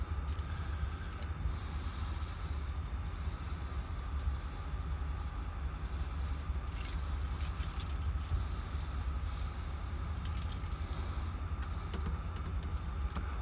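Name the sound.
fumbling with keys in a lock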